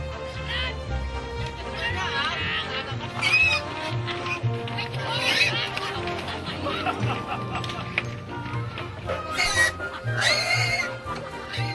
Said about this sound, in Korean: 한바탕 실랑이를 벌인 후에야 돼지들이 움직이기 시작했는데요.